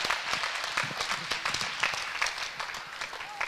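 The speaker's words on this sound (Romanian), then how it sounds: "Aplauze și pentru Andrei." An audience at a 2015 charity Christmas concert for children applauds a boy named Andrei as he walks on stage, continuous crowd clapping with dense, sharp hand claps throughout, a voice briefly heard near the end.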